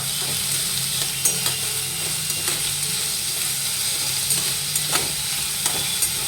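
Onions with salt fry in a pan on the stove for chicken tandoori masala gravy, giving a steady close sizzle with intermittent light scraping and stirring taps throughout.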